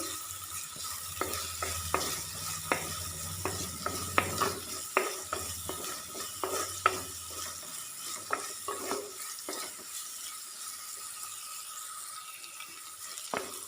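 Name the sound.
stirring sautéing onions in a pan for jackfruit thoran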